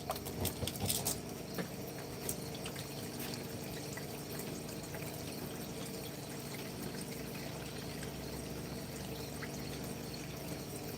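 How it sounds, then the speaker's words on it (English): A water pump runs at a creek during gold prospecting, giving a steady, continuous mechanical whir and watery rush throughout, with a few louder splashy clatters at the start. "Pump back on"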